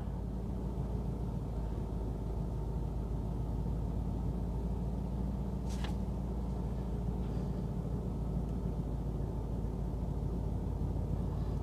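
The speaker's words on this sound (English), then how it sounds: "I just want to make sure it's got a steady idle before I start putting everything back together" A Jaguar XKR (X150) engine, warmed up after a mass air flow sensor replacement, idles with a low, steady, fairly quiet rumble. One brief faint click or tick sounds partway through, and no one speaks.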